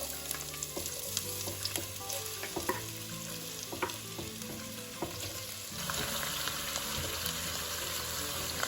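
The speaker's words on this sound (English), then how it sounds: "Next, we will saute our onions on medium heat." Onions sautéing in vegetable oil over medium heat, a steady close sizzle with frequent scraping and stirring clicks from a utensil in the pan, growing slightly louder and brighter toward the end.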